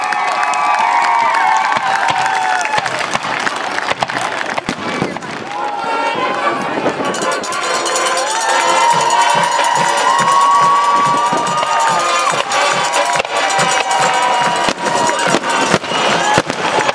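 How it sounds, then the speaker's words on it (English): High school football crowd at an Effingham Flaming Hearts game cheering and clapping, a loud roaring mass of voices with whoops and shouts alongside a steady patter of applause, and a voice carrying over the din. "Let's give them all a big round of applause."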